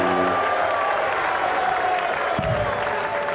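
Crowd applauding and cheering at the 2005 BDO Lakeside World Championship darts match, a loud, continuous wash of clapping from a large audience.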